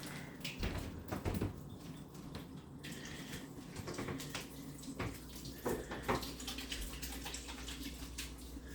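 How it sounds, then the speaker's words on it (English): Hands are rinsed under a running kitchen tap while turkey meatloaf is being made. The water flows steadily and quietly with soft, uneven splashing throughout. "let me rinse my hands off so I can have the rest"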